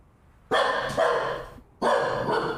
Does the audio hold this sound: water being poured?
no